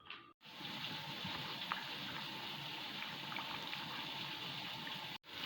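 Apples being rinsed under a steady stream of running tap water, a continuous gushing splash that holds evenly for about five seconds between brief breaks at the start and end, with no talking.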